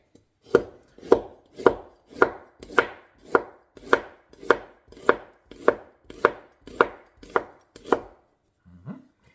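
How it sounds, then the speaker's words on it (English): A knife slices fresh ginger on a cutting board in steady, evenly spaced strokes, about fourteen crisp close chops at a regular rhythm, with a faint scrape at the end. "we're gonna slice the ginger"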